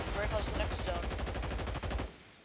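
Rapid automatic gunfire from a WSP-9 submachine gun in a multiplayer shooter, a dense burst of shots for about two seconds before cutting off sharply.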